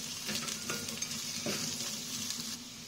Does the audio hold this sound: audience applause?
no